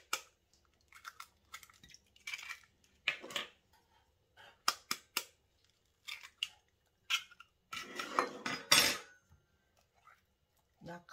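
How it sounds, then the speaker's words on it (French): Eggs are whisked in a bowl for a Halloween graveyard cake, giving intermittent bursts of close clinking and scraping separated by short pauses, with no talk. "Je vais fouetter les œufs."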